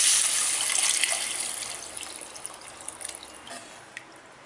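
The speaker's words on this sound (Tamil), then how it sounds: "இப்போ வந்து நம்ம இதில் புளி தண்ணி சேர்க்க போகிறதில்ல" Tamarind water is poured into a pan of simmering kulambu with sautéed onion, tomato and masala, a close splashing pour that fades over a few seconds into light drips and bubbling.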